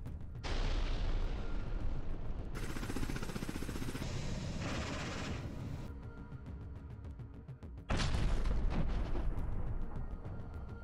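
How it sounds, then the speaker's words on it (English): Russian airstrikes near Konstantinovka produce heavy roaring blasts that come in several abrupt, loud bursts, with a fresh powerful boom near the end. "Footage of the Russian airstrikes was captured by objective cameras."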